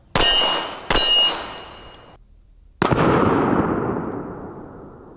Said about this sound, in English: we're shooting it out of the Canik TP9 SFX